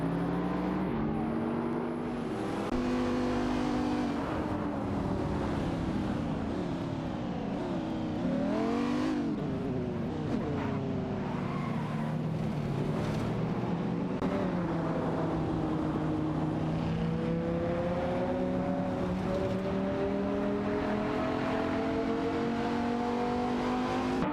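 Race cars in an AI racing video game roar continuously, engine notes rising and falling as they accelerate and shift, loud and close with no talking.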